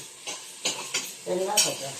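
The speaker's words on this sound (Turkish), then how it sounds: "Soğanımız biraz kavruluyor." Soft sizzling of onions sautéing in a pan with a few scraping stirs of a utensil, close by, in short bursts over a low frying hiss.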